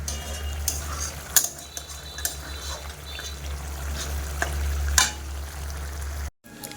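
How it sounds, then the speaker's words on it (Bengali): Chilli soya gravy thickened with cornflour simmers in a pan, giving a steady close bubbling hiss over a low hum, with scattered soft clicks and a brief cut near the end. "এখন জাস্ট একটুখানি গ্রেভিটা ফুটিয়ে নিয়ে তারপরে এই যে করে রাখা সয়া বলগুলো দিয়ে দেবো"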